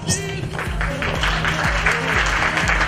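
Sustained applause from an audience at the closing of a Côte d'Ivoire book and culture fair, a dense steady patter of many hands with a low rhythmic thumping underneath, filling the whole stretch.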